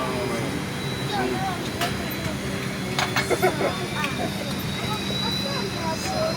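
Inside an airplane cabin carrying passengers, a steady engine drone fills the space, with people talking over it throughout.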